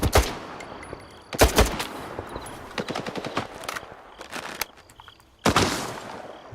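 Several loud, sharp shotgun blasts boom in a first-person shooter set in the Chornobyl Zone, arriving in irregular bursts, some close and punchy and others shorter and more distant, with faint footstep-like clatter between them and no talking.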